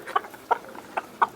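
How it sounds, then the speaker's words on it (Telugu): Grown farmyard chickens let out four short, separate clucks at a close, steady distance, with quiet pauses between each call. "ఇక మన కోళ్ళు చూసుకున్నట్టయితే"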